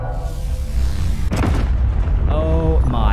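Railgun volley in the game Space Engineers, with heavy booming blasts and a sharp crack midway, followed by rising electronic whines. Loud and close, with no talk.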